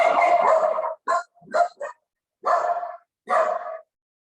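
A dog barks five times in an uneven rhythm, a long bark followed by shorter, sharper yips, close and loud with brief silences between.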